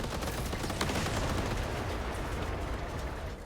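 Missile turrets firing in the vehicle-builder strategy game Machine Mind, a dense, continuous barrage of rapid launches and impacts, steady and fairly loud with no talking.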